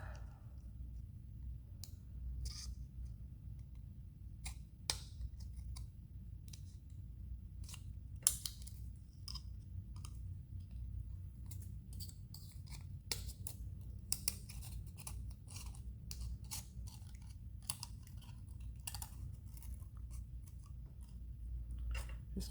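Small scissors snip excess cured resin spillage off pendants, a long series of quiet, crisp clicks at an irregular pace, close up, over a low steady hum.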